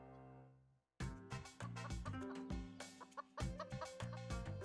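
A chicken, the last one left unsold at a market in a Korean animated series, clucks in a quick run of loud, close squawks that start after about a second of quiet and continue unevenly to the end.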